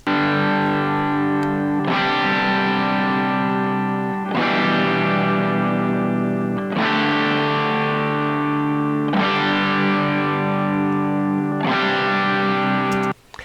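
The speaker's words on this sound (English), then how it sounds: "Next up we have a Stratocaster" Heavily distorted Stratocaster electric guitar chords strummed and left to ring, several sustained crunchy chords in a row, loud and thick with overdrive, biting on the top end.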